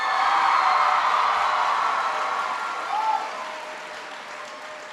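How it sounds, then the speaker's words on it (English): Loud, dense audience applause in a school auditorium for a student who gave an introduction, steady at first, then slowly thinning and fading toward the end. "Give Kelly a big round of applause."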